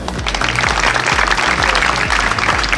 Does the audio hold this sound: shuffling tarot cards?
no